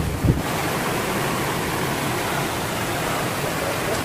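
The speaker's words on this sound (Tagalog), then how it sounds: "Lakas talaga ng ulan." Heavy rain pours in a dense, steady hiss during a rainy-season home cooking session of frog soup, loud and constant with a brief knock near the start.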